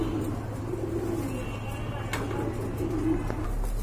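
Pigeons coo softly in a low, steady murmur at a bird market, with faint background noise and a voice talking over them.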